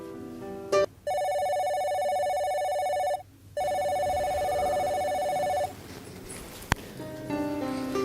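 A home telephone rings in two long electronic bursts with a short gap between them, loud and close, followed by a sharp click and quieter room sound.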